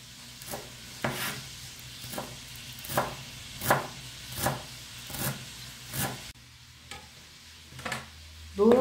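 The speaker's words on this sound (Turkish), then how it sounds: "Şimdi maydanozumu doğruyorum." Steady knife chops through parsley on a cutting board, evenly spaced about twice per second, close and crisp, ending in a brief pause and a louder scrape.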